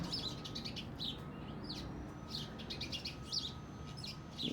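Birds chirp in a berry-laden tree outdoors, scattered short high calls at a moderate distance over a steady background hum.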